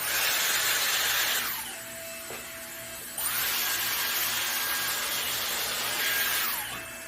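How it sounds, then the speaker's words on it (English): A Dyson AirStraight hair straightener on its heat setting blows a steady, loud rush of hot air close by. The airflow drops away briefly twice as the tool moves through the hair, then returns, with no voices. "watch how I use it as a straightener on the heat option"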